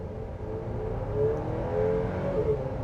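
A 2024 Chevrolet Traverse Z71 with a turbo engine accelerates uphill, a steady moderate engine drone rising slightly in pitch without a break.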